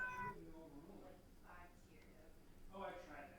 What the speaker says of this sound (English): Whose cat is that? It sounds beautiful.